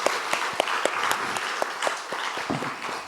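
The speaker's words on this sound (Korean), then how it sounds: "우리 학생들 위해서 박수 한번 쳤으면 좋겠습니다" A church congregation claps steadily for students during a service, a dense burst of applause from many hands with no one speaking.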